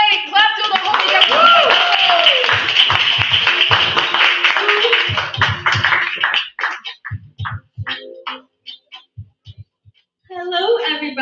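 Scattered clapping at an open mic show rises for a performer, heard under crowd cheering and shouting, then thins out into sparse claps with gaps before a voice returns.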